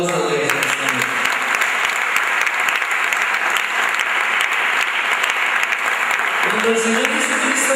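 A church congregation gives a loud, sustained round of applause, dense clapping from many hands close by and continuing without a break for nearly eight seconds, with only faint murmurs beneath.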